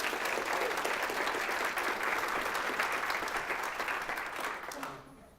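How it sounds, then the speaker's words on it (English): A conference audience applauds a keynote speaker with steady, dense clapping that stays loud, then trails off at the end. "a nice round of applause, please."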